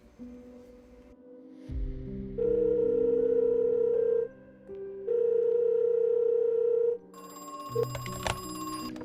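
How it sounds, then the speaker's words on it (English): A telephone ringing near the exit of an amusement park in the video game Crow Country, steady electronic tones in long sustained bursts separated by short gaps, ending in a brighter chiming ring, clear and alone. "Near the exit, a phone was ringing with a mysterious caller."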